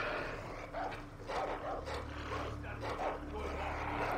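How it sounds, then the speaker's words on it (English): Dogs barking in Far Cry 3, repeated yips and barks over a steady game hum, with a voice talking partly over them. "Dogs."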